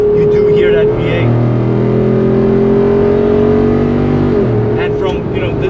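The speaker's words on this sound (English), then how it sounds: "The amount of V8 and induction noise you get in this car is crazy." A Jeep Wrangler Rubicon 392 Final Edition with a soft ragtop and hood scoop drones with its V8 and induction noise, heard from inside the cabin as a steady loud engine hum that dips briefly, with someone talking over it.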